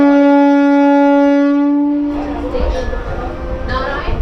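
A Mecheda–Digha local train pulls out of a station; a long sustained horn blast fades into rumbling and rattling of the carriages getting underway, close and loud, with a person talking over the motion.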